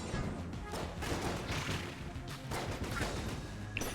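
Rapid modded gun fire and projectile explosions from the video game Enter the Gungeon, dense bursts and blasts piling up loudly and continuously over game music with no pause.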